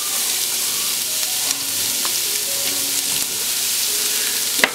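Large onion with salt frying in a pot, a steady close sizzle with occasional stirring scrapes and a sharp clack near the end, no voices.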